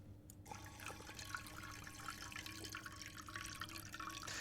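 Water running steadily in the Stationeers video game, a quiet continuous trickle and splash like a tap pouring, alone with no talk.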